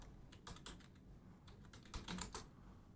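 Quiet, rapid keystrokes on a computer keyboard come in irregular bursts of clicking, close and alone with no talk.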